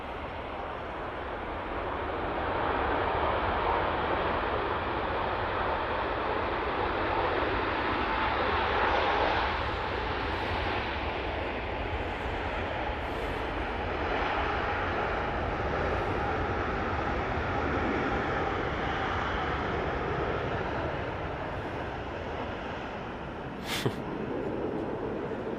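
An airliner landing at Manchester Airport, its rear gear touching the tarmac, comes through as a long, steady engine roar that swells slightly midway, then eases off, with a brief sharp sound near the end.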